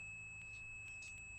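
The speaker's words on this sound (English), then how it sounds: "I hear them beeping, so I know you're getting continuity there" A multimeter continuity test gives a few faint, short electronic beeps in quick succession as the leads touch a component in a classroom, over a low steady background hum.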